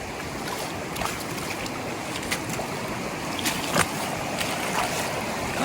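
Creek water rushes steadily at a river crossing on the Pacific Crest Trail near Warner Springs, a continuous close wash of flowing water with a few brief splashes and knocks.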